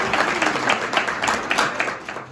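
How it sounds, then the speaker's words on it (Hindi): Audience applause welcoming a student host at a farewell ceremony, a steady crowd of hands clapping continuously at moderate volume for a couple of seconds, with no talking. "एक बार तालियों के साथ स्वागत करेंगे।"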